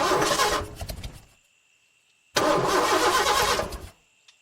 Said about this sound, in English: But when Dan turned the key